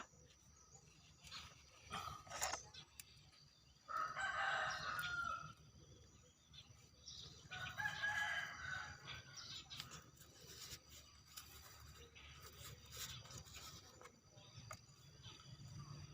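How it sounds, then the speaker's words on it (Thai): Chickens in a rural garden where butterfly pea vines grow, with two bursts of rooster crowing and scattered clucks at moderate distance over outdoor background noise. "ไก่ชอบกินดอกอัญชันนะคะ"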